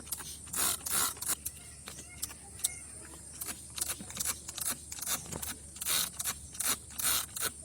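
Repeated short hissing bursts from a hand sprayer spraying okra plants in the evening, spaced irregularly with faint clicks and handling noise between them, close by.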